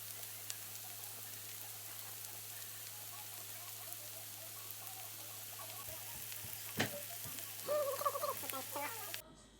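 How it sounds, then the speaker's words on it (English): Onions fry and caramelize in a pan with a faint, steady sizzle, joined near the end by a few soft stirring clinks and scrapes. "we're going to take the onions and caramelize them down to a nice golden color"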